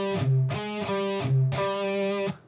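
Lead riff on a high-gain electric guitar, a few heavily distorted sustained notes in a short repeating pattern with a low note between phrases, loud and close with no voice.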